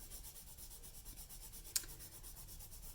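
A pencil rubs steadily back and forth over paper to transfer a drawing for relief carving in clay, a soft, rhythmic scratchy strokes close up with one sharper tick midway.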